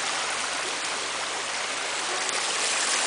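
Water pours down a garden waterfall beside decking and plants, a steady close rushing splash with a bright hiss that continues unbroken from start to finish.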